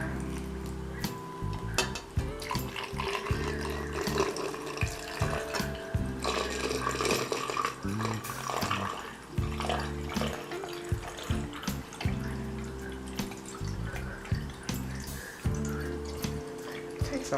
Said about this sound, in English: just pour my water in. So I have a pitcher of water here.